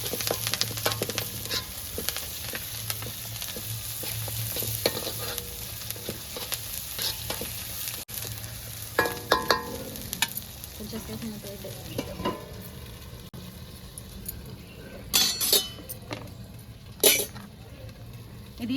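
Egg chicken curry masala fries in hot oil with a steady, close sizzle, broken by scraping stirs and a few sharp metallic clinks of a spoon against the pan.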